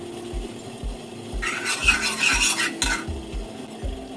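Semolina (rava) stirred in ghee in a small pan, with a steady rhythm of low scraping strokes and a brighter rasping, sizzling stretch in the middle, close up with no talking.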